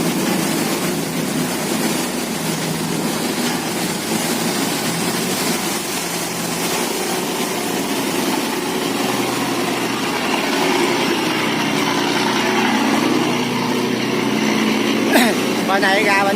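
Boats crossing the seven-gate Cái Hớp sluice at Đức Mỹ, their engines droning steadily in the background over a continuous wash of water and activity, with people talking nearby throughout.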